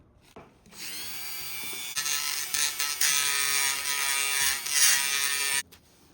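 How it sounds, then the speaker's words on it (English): A Dremel rotary tool whines steadily as it cuts a square pocket during an engine build, starting abruptly, rising and wavering in pitch under load for about five seconds, then stopping sharply. "I'm using a Dremel and I'm just making a square cut here"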